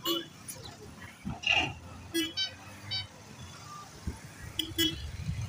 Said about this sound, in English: The new vehicle is coming from here.